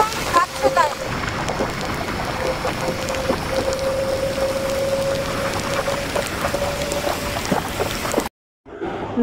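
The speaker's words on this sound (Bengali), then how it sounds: "এই দেখো বৃষ্টি হালকা ফুলকা দেখা যাচ্ছে, হালকা হালকা বৃষ্টি পড়ছে।" Light rain heard while riding a motorbike at speed on a highway, a steady rushing wash of wind and road noise with a faint engine tone and patter, cut by a short silence near the end.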